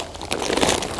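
Fabric drainage mat for a French drain being folded in a yard, a short soft crinkling rustle that swells briefly and fades.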